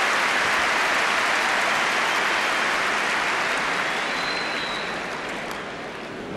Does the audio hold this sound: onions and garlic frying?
no